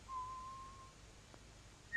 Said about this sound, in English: he heard somebody whistling behind one of the closed doors